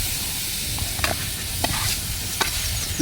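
Paneer pulao is stirred and mixed in a pan, with a loud, steady hiss of steam and sizzle and a few faint scraping strokes of the spoon scattered through it, with no talking.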